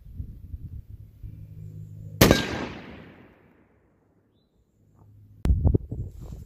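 A .50 BMG armor-piercing incendiary gray-tip round is fired, giving one sharp, loud report that rings out in a long fading tail, then a second abrupt burst of sound a few seconds later.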